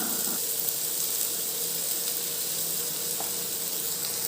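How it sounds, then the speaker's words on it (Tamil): A tomato, ginger and garlic paste sautés with onions in a pan, a soft, even sizzle running steadily and close without pauses. "இந்த பேஸ்ட்டில் இருக்கிற இஞ்சி பூண்டோட பச்சை வாசனை, தக்காளியோட பச்சை வாசனையும் போகிற வரைக்கும் நல்லா இதை வதக்கி விட்டுக்கலாம்"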